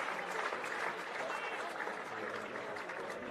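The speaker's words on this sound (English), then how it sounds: "And it was a beautiful crowd cry." A football match crowd roars and cheers after a goal, a dense, steady wall of noise that fills the stadium for several seconds, with no breaks or single voices standing out.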